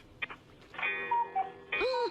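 Sound effects machine played over a phone line on a talk radio show: a quick electronic chirp, then a sustained warbling synthetic tone with sliding pitches and a second bending beep, thin and phone-filtered, with no voices.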